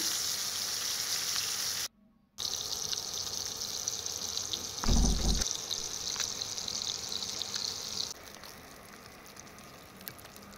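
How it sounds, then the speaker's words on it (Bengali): Katla fish frying in hot oil gives a steady hiss and crackle, briefly interrupted, with a clatter partway through before the sizzle softens near the end. "মাছ ভাজাটা কমপ্লিট হয়ে গেছে, এখন মাছ ভাজাগুলো তুলে নিচ্ছি"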